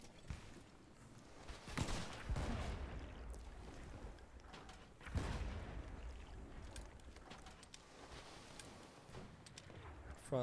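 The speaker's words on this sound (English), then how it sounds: "I need someone to fire the cannon" Ship cannons firing in the pirate video game Blazing Sails: two heavy booming blasts a few seconds apart, each with a rolling tail, over wind, creaking and faint chatter of players.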